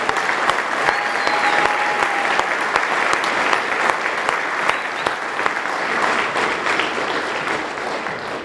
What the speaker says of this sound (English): So I want to give you a big round of applause.